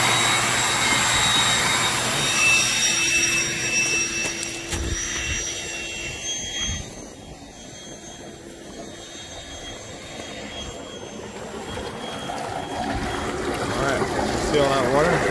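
A professional pool blower forces air through spa jet lines during a pool closing, giving a steady loud roar that dips and swells partway through, with a voice speaking over it.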